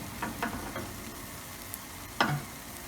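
A Spanish potato tortilla frying in a pan gives a soft, low sizzle with a few light taps and one sharper knock near the end.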